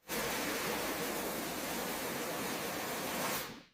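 A pressure washer blasts water steadily against a rusted, rotten 1969 Dodge Charger caked in old Texas mud, a loud, even hiss that stops abruptly after a few seconds.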